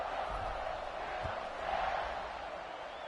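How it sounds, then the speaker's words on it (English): A stadium crowd in a college football video game roars in a broad steady wash, swelling slightly midway, loud and continuous with no clear talk over it. "this crowd is feeling themselves after that last drive."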